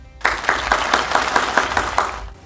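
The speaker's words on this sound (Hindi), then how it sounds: "आपकी तालियों में तशरीफ लाते हैं बिशप जॉनथन रहमत।" A studio audience applauds to welcome Bishop Jonathan Rehmat, bursting in abruptly after a brief silence with a moderate clatter of clapping and distinct sharp individual claps, fairly close, fading toward the end.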